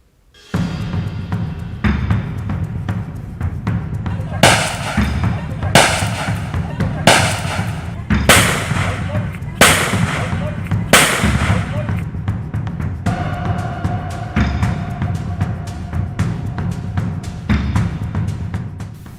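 Repeated sharp gunshots ring out as two groups fire at each other in a village, about six loud cracks spaced irregularly over a constant low hum and murmur of voices.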